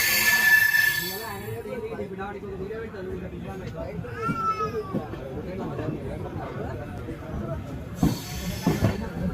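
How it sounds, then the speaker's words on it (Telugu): A train pulls into Guntur railway station with rolling rumble and a brief high wheel squeal, while station chatter and people talking sit over the moderate, continuous noise. "ఇప్పటి గుంటూరుకి అయితే ట్రైన్ చేరుకుంది"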